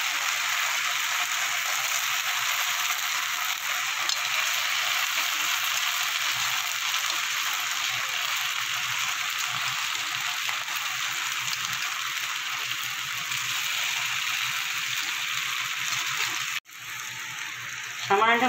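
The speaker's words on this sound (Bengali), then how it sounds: "এবার আমি সব কিছু ভালো করে কষিয়ে নেব।" Fried potatoes, poppy seeds and ground spices sauté in a pan with a steady, loud, close sizzle that runs unbroken, then a brief clatter as the sizzle drops near the end.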